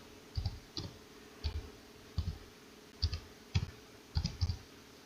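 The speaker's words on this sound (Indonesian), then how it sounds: "Tinggal diketik username-nya" Typing on a computer keyboard: about ten soft, close key clicks, some of them paired, fall in an uneven rhythm against a quiet room.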